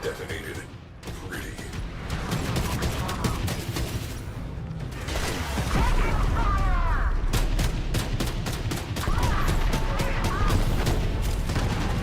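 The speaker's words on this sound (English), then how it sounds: "Cruise ship reactor has detonated." A cruise ship reactor detonating in the video game Warframe: a loud, sustained barrage of blasts and crashing booms that swells over several seconds, with dense rapid impacts and rumble throughout.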